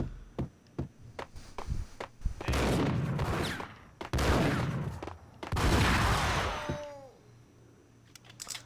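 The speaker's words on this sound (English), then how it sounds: "To pull up my dual Uzis and shoot him." Dual Uzis fired in the video game Pain to the Max 2: a few sharp single shots, then several dense bursts of rapid automatic fire separated by short gaps, loud and close.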